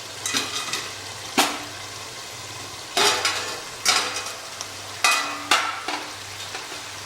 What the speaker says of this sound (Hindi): इस मीट को भी, जिसके अंदर लहसुन अदरक का पेस्ट डला हुआ है, इसे भी 2 बार बढ़िया भून लिया है।